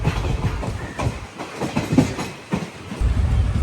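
Guruvayur passenger train running toward Aluva station, a steady rumbling ride with rhythmic clickety-clack wheel beats over the rails, close and continuous with no talk.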